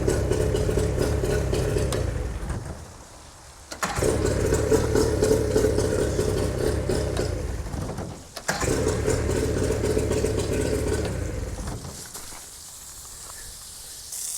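A boat engine fires up and settles into a steady, rough idle, its loud mid-range rumble dipping twice in brief pauses before running on.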